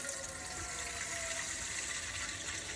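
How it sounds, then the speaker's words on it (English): Cold tap water runs steadily into a pot being filled for boiling eggs, a continuous close splashing gush with no voices. "So the next thing that you do, fill up the water."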